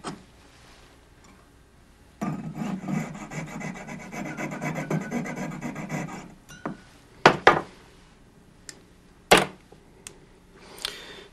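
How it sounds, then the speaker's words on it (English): A jeweler's saw cuts excess metal off the tongue of a clasp during jewelry repair, rasping in a dense stretch of quick strokes for several seconds, followed by a few separate sharp metallic clicks and taps. "Now I need to saw the excess off on the tongue"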